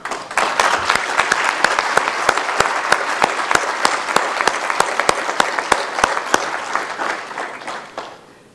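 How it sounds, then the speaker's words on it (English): Audience applause for the family of the late Professor Francis Mwega at a Central Bank of Kenya public lecture; sustained, even crowd clapping with sharp individual claps standing out, steady throughout before easing off at the end. "let us clap for them"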